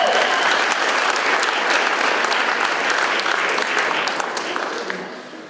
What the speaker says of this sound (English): Y'all can applaud for that if you want